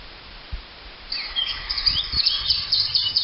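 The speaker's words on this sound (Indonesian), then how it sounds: "Burung-burung keluar dari sarang dan mulai bersiul merdu." Morning birdsong, with bright chirps and tweets that start after a quiet second and build into an overlapping chorus, alongside a few low thumps.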